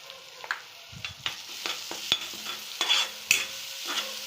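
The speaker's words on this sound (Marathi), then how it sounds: "आता चांगलं परतून घ्या।" Salt, chili powder, goda masala and turmeric are stir-fried for a green moong curry, with a soft sizzle under repeated scraping strokes of a spoon against the pan, close and fairly quiet.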